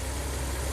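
A Ram camper van engine idles steadily near 600 RPM after a hot soak. The rumble is close and even, with no talk over it.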